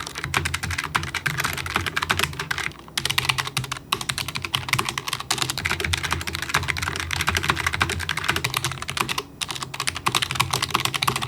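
Continuous typing on a Logitech G915 TKL keyboard fitted with GL Linear Red switches, a dense, even patter of fairly quiet keystrokes heard up close and alone, with two short pauses.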